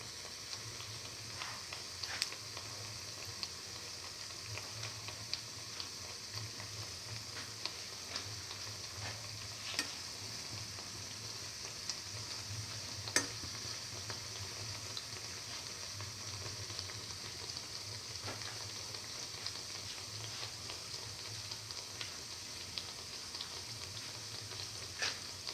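Egg, fenugreek leaf and chickpea fritters fry in oil with a soft continuous sizzle and occasional small pops and ticks, faint and even over a low hum.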